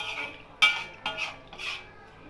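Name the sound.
stirring mango kulambu in a pot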